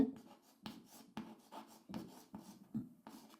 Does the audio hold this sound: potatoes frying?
no